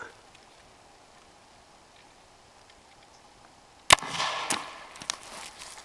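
A potato gun fires at a pumpkin outdoors, one sharp loud bang after a quiet wait, followed by a brief scatter of impact and rustle.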